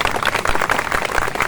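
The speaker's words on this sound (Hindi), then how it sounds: "आपकी कमजोर तालियों के लिए बहुत बहुत धन्यवाद।" Audience at a Hindi-language gathering of a competitive-exam students' group claps in a dense, steady patter of many hands, moderately loud and continuous with no talking over it.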